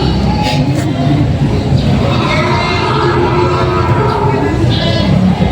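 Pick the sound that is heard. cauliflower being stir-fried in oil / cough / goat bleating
goat bleating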